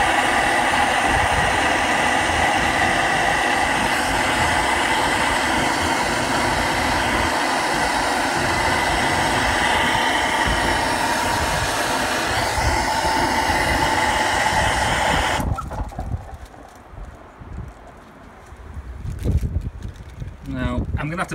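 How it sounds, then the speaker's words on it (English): Strong wind on a cold night outdoors, roaring and buffeting the microphone as a loud, continuous rush that drops off abruptly near the end into quieter, gusty rumbling. "It's really cold and really windy tonight"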